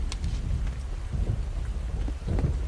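Steady rain with low rumbling thunder during a camping outing, a continuous wash of falling water and deep rolls close by, no voices.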